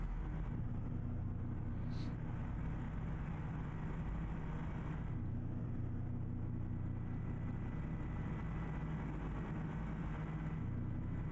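Steady low rumble of an old Kenworth truck engine in American Truck Simulator, droning continuously and evenly at a constant level with no breaks.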